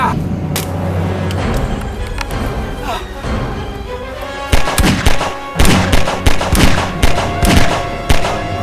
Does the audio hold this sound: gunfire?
yes